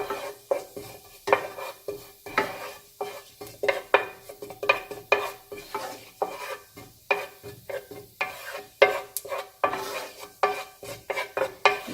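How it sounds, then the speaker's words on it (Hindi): Steady sizzling of white cumin seeds frying in hot oil over a medium flame, with rhythmic stirring scrapes and light clinks of a spoon against a pan. "ऑयल डालकर 1 टीस्पून सफ़ेद ज़ीरा डालकर इसको थोड़ा सा फ्राई करेंगे, हल्का सा"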